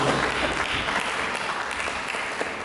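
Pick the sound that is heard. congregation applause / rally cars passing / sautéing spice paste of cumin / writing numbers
congregation applause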